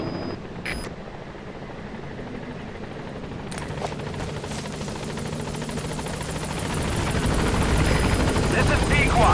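A helicopter in Metal Gear Solid V: The Phantom Pain approaching a landing zone, its rotor thrum steadily growing louder and nearer, with brief clicks and radio-style speech over it.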